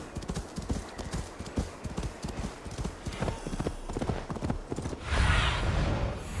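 Horse hooves clip-clop in a steady rapid rhythm in Assassin's Creed Valhalla, close and fairly loud, with a brief burst of broader noise near the end.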